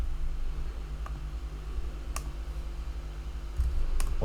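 Mouse clicks come from a computer user working in the Unreal Engine 5 editor: a few sparse, quiet clicks over a low steady room hum, with no speech.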